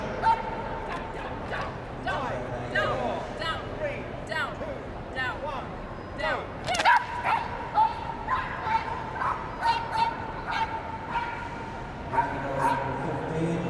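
At the Crufts agility championship final, a dog yips and barks repeatedly amid arena crowd noise, heard under continuous commentary and a sharp burst of cheering partway through.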